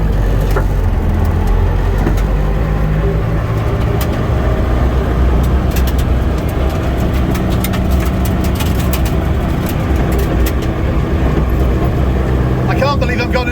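Interior of a Group B Toyota Celica turbo rally car on public roads, a loud, dense engine drone with rattles and clicks inside the caged cabin, a voice speaking over the noise.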